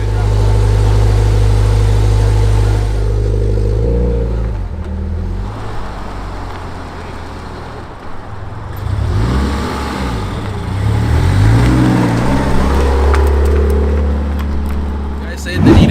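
A 2014 Subaru BRZ with an Edelbrock tune drives off, its engine revving up and down loudly and close by in repeated surges, with people talking over it.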